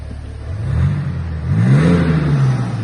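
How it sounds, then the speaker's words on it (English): A BMW X5 with Active M Sport exhaust in sport mode, revved twice while stationary, each deep throaty blip swelling and fading close by with no talking. "it does give it a very nice, deepy, throaty exhaust note, which I will just quickly demonstrate for you"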